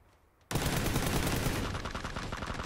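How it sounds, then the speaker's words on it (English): Sustained automatic gunfire in a shooter video game bursts in suddenly after a brief quiet moment, a loud, dense, rapid rattle of shots that continues without a break to the end. "I'm getting shot on my right."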